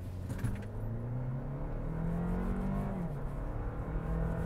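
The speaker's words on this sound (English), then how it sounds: "Here's some turbo spool." A 2024 Toyota Land Cruiser with a 2.4-liter turbo four-cylinder hybrid accelerates, its engine note rising in pitch with a faint turbo spool, heard from inside the cabin as a moderate, steady drone with a brief jangle of keys.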